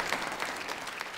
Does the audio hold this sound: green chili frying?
no